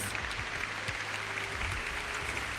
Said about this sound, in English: Let me give her applause one more time